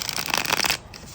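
Practical Magic Inner Witch tarot cards are shuffled by hand in a quick, close, crisp riffling burst lasting under a second, then a quieter pause.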